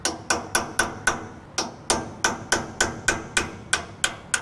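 A hammer strikes a chisel or punch to loosen a hub nut on a 10K trailer axle, sixteen loud, close, ringing metallic blows in a fairly steady rhythm.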